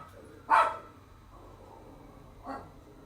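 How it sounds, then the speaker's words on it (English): Pet dogs barking outdoors at squirrels, two short distant barks about two seconds apart over a quiet indoor room background, no talking. "my dogs are out there barking at squirrels or something."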